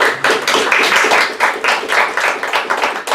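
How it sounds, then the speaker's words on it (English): Graduates and audience at a hypnotherapy training graduation break into lively applause, loud and close, with individual hand claps standing out in an irregular, pulsing rhythm. "you can give yourself actually a round of applause or a pat on the back"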